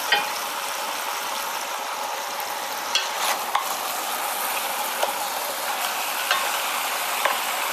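Ground meat ragu sauce browns and sizzles steadily in a pan, a dense frying hiss with occasional spoon scrapes and clicks as it is stirred, close and continuous with no talking.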